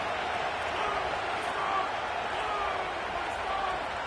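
A packed college stadium crowd roars in the NCAA Football video game, a dense, steady wall of cheering and noise with a commentator talking over it throughout.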